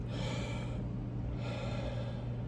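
A deep breath drawn in hard through the chest by someone with a cough, one long noisy inhale followed by a second, close and breathy with no talking.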